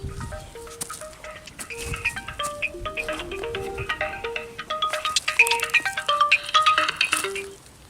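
A melodic electronic ringtone plays a stepping sequence of tones over a busy outdoor background, growing louder before stopping abruptly.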